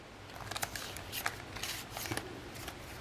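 Leftover scrapbooking pattern paper scraps being handled, giving close, crisp rustles and light crinkling taps in irregular bursts with no talk.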